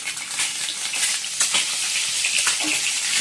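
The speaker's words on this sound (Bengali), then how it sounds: "ডিমটা ভেজে নিচ্ছি" Eggs with turmeric fry in a pan, giving a steady, close crackling sizzle with faint stirring scrapes throughout and no talk.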